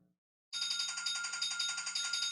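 Telephone ringing alone after a brief silence, a continuous trilling electronic bell with a fast pulsing warble, clear and steady.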